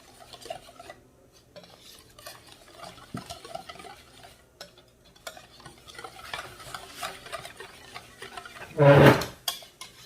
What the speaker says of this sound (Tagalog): At saka haluin lang siya hanggang wala ng mga lumps.